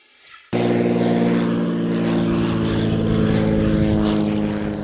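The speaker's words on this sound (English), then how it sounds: "19-year-old Matt Guthmiller landed his plane with ease at Gillespie Field" Small single-engine propeller plane at Gillespie Field airfield: a loud, steady droning engine with a strong low hum kicks in abruptly after a brief quieter moment and holds close and constant throughout.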